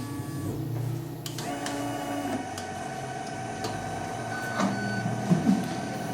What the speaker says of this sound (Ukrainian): Кнопочка загорілася, це він взяв собі образець, образець і проводить аналіз.